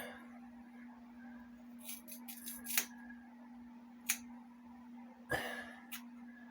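Sharp scissors snipping hair during a home haircut, a few quiet separate snips at irregular intervals over a steady low hum, with no talking.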